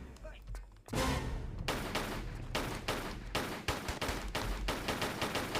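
Rapid pistol gunfire from Lara's pistols in Tomb Raider, a dense run of sharp close shots repeating steadily over several seconds after a brief quiet start, with some talk mixed in.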